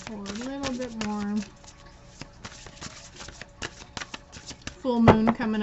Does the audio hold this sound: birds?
no